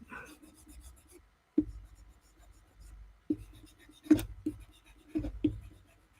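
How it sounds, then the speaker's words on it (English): An eraser rubs over a wood-burned sketch on wood, giving soft scratchy strokes with a few sharper scrubbing bursts near the end, close and fairly quiet. "I'm going to erase that."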